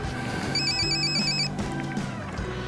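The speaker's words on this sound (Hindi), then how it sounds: "हर जगह से फोन आ रहे हैं। ये देखो।" A phone rings with a bright electronic tone in repeated bursts, loud and close, with no talk over it.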